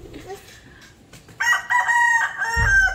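Chickens heard up close at a home on a rainy day: a rooster's loud crow rings out over soft clucking and scattered fowl noises, with a low thump near the end.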